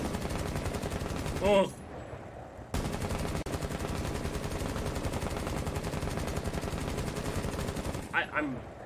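Rapid machine-gun fire in Rainbow Six Siege crackles almost continuously, with a short pause near the middle, while a player briefly exclaims and other short vocal bits come through.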